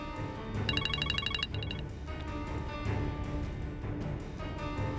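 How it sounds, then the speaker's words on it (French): A mobile phone rings in short repeated electronic bursts during a tense scene, the ringtone sitting over a steady background of music and room noise before fading under it. "Réponds à ton foutu portable."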